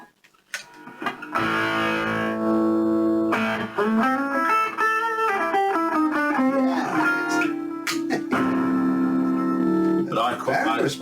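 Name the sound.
electric guitar played through MXR distortion pedal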